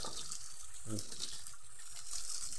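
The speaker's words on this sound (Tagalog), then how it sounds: "May lumalabas na tubig." Stream water flows out between layered rocks, making a steady, close rushing hiss that holds throughout, with a voice briefly heard in the middle.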